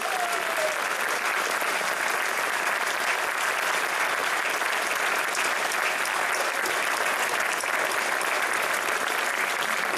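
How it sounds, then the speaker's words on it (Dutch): Steady, dense applause from an audience honouring the musicians of three harmony bands, a continuous even wash of clapping that runs unbroken and loud throughout. "Het applaus voor de muzikanten van ONU, De Goede Hoop en Sint-Cecilia."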